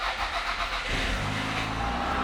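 A Toyota Camry's engine turns over and catches, the cranking giving way within a second to a steady, close idle rumble.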